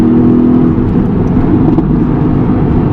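A Mercedes-AMG GT C Coupe engine drones loudly and steadily from inside the cabin, a low rumbling hum with faint exhaust crackles on downshifts, heard alone without speech.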